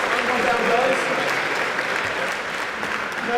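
Audience at a hackathon demo session claps in a short round of applause for a birthday, steady clapping with a voice talking over it.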